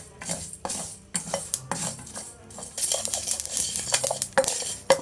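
Green chilies in a hot pan just taken off the stove give a soft sizzle beneath repeated clattering strokes of a spoon stirring against the pan, close and fairly loud.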